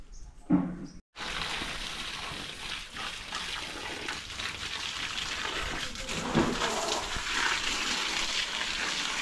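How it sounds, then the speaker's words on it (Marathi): Steady splashing of water poured out continuously onto plants, close by, with a short pause near the start and no talking. "त्यांना आता आपल्याला पूर्ण पाणी घालायचं आहे बघा पूर्ण"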